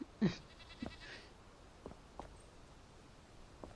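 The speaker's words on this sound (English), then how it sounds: "I'm like, what is that noise? The darn goats." A single loud goat bleat from a video game, near the start, followed by soft scattered footstep-like taps over a quiet background.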